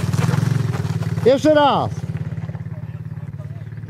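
A quad bike engine idles steadily close by, then is given more throttle in a brief rising rev before settling back to a low idle, while people talk over it.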